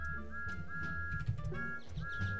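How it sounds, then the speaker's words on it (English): A Thomas the Tank Engine steam whistle in Garry's Mod gives several short, high, steady toots in a broken rhythm over a low rumbling engine background. "Thomas, smoke on. Whistle time."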